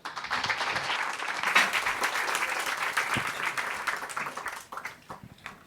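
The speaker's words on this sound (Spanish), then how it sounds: "Un aplauso, por favor." An audience at a panel event on female leadership applauds steadily and loudly, a dense wash of clapping that holds for several seconds before thinning out near the end.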